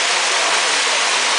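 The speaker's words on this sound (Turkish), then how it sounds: "Şelale, bir kez daha şelale oluşturarak aşağı doğru akıp gidiyor." A waterfall at Güre pours over smooth, water-worn rocks inside a small cave-like passage beneath a fallen boulder, giving a steady, loud, close rushing roar with no voices.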